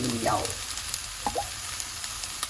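Yangzhou fried rice with egg, char siu and seafood is tossed in a hot wok, a close, continuous sizzle with a few brief scraping sweeps and light clatters, no voices.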